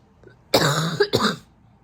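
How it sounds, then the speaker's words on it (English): Two harsh, close coughs in quick succession after a brief quiet moment. "I think my coughing fit is about to start again."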